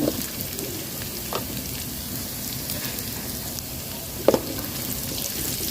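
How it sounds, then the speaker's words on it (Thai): Garlic roasting in a pan for a dried bamboo shoot salad, giving a soft, continuous close sizzle with a brief clink near the end, alone without talk. "คั่วกระเทียมให้หอมแล้วก็เอาถั่วเน่าลงไปนะคะ"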